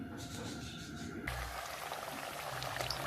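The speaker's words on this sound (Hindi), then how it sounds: "डोनट्स मैंने डाल दिए हैं ऑयल के अंदर।" Chicken donuts are dropped into hot oil for deep frying over a low flame; a soft, even sizzle and bubbling hiss starts partway through and carries on steadily, quiet and close.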